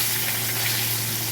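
Katla fish frying in hot oil in a wok, a steady, dense sizzle that stays loud and even throughout with no voices.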